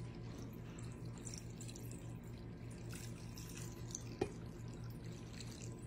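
Water trickles and drips steadily as it is poured into a Valentine's Day flower centerpiece, heard close up against a low background hum, with one brief sharper splash near the end.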